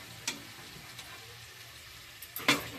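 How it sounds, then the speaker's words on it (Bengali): Chicken pieces frying in a pan as the released water cooks off, giving a faint steady sizzle broken by a few sharp clicks and a louder clatter near the end. "চিকেনে যে জলটা ছিল আস্তে আস্তে জলটা বেরিয়ে চিকেনটা ভাজা হচ্ছে"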